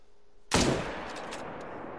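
A single sharp gunshot in a video game, hunting elk, cracks out loudly, followed by a long rolling echo that slowly fades.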